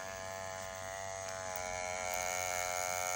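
A tattoo machine fitted with a spade needle cartridge buzzes in a steady, faint, high-pitched electric whine for about three seconds, alone, growing slightly louder toward the end.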